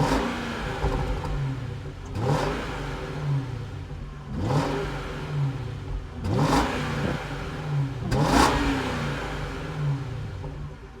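Revving of a 2006 Jaguar XJR supercharged V8 with an aftermarket intake: four quick blips of the throttle at roughly two-second intervals, each sharp rise falling back to a settled idle, heard close with a whirring exhaust note.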